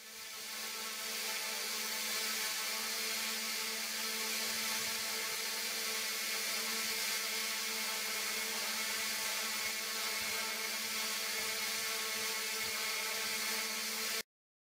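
Fully-actuated hexarotor drone with its rotors running, a steady close whir with a constant hum that holds level throughout and cuts off sharply at the end.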